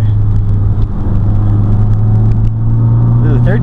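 A Fiat 500 Abarth pulls hard in third gear, its engine droning steadily as a loud, close in-cabin rumble, with faint talk from the occupants underneath.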